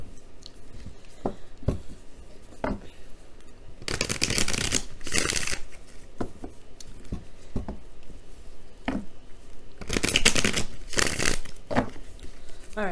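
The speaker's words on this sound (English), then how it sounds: "If you guys are not interested in watching the shuffling" Tarot cards are shuffled up close in soft bursts of riffling and flicking, with two longer, louder riffles and scattered taps and slides between them.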